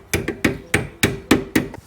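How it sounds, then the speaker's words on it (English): A hammer taps new rear brake hardware into place on a 2003-2007 Jeep Liberty, about seven sharp metallic strikes at a steady rhythm, close and loud with no talk. "Take our hammer or something to tap on. We'll just tap it in until it bottoms out."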